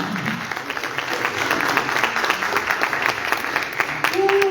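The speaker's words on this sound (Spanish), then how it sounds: "un aplauso para Bertita" An audience applauds for Bertita at a Spanish-language radio tribute, a dense, steady wash of many hands clapping that carries on throughout, with a faint voice or tone emerging near the end.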